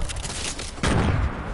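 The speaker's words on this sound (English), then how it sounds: "Whose grenade was that?" A grenade explosion in Fortnite, a sudden loud boom rising over steady game noise and rumbling on briefly.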